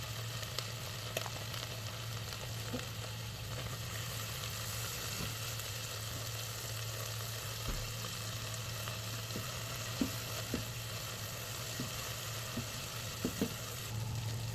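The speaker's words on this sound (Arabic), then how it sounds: "هنزل بطماطماية متوسطة مقطعة وهبدأ أقلب لغاية لما تنزل شوية الصوص بتاعها" A diced medium tomato sizzles steadily in a pan while being stirred, a constant fry hiss with occasional soft utensil clicks, cooking for sayadieh-style rice.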